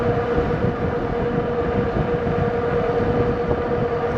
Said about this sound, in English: it's a very nice acceleration now, quick on the throttle only